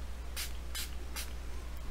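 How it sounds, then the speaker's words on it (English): Three short bursts of water from a spray bottle misting an acrylic daffodil painting, evenly spaced and fairly close, over a low steady hum with no talking. "I think we need to spray a little bit water."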